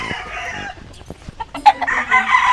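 Chickens cluck and a rooster crows close by, with scattered short calls building into louder, drawn-out crowing near the end.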